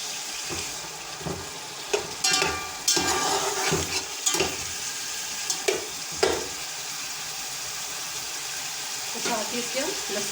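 Chicken fries in a pan with softened onions, garlic and ginger, with a soft background sizzle broken by scraping, clattering stir strokes at irregular intervals, fairly quiet and close.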